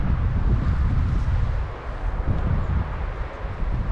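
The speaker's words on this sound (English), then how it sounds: "Got a little gust of wind kicking up over here." Wind gusts buffet the microphone in an outdoor raised-bed garden, a continuous low rumbling roar that eases briefly then picks up again, with no one speaking.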